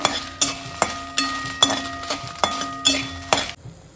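Tempering spices with asafoetida frying in hot oil for a wood apple chutney, heard as a series of about eight sharp metallic clinks and scrapes of a spoon against the pan at a steady rhythm over a light sizzle.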